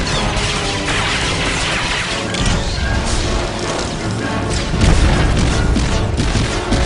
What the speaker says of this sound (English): And with one last barrage of missiles, that's down too.